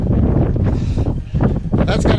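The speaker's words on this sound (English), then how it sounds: "Getting pretty cold and windy up here." Wind gusts across a cold mountain peak, rumbling and buffeting the microphone in loud surges that dip briefly and swell again.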